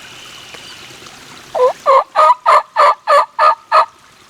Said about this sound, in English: So we got a gobbler.